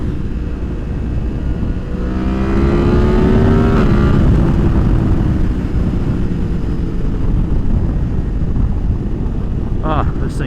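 A 2023 Yamaha MT-10 motorcycle with a Leo Vince slip-on exhaust is ridden. The engine note climbs in pitch and then settles into a droning roar, heavily buffeted by loud wind noise.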